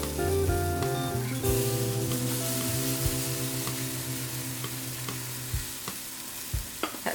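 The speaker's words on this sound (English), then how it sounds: "sizzle sound is exactly what you want to hear. It means that your pan is hot enough." Steady sizzling and crackling of pancake batter in a hot pan, close and continuous, with faint clinks and a low hum in the background.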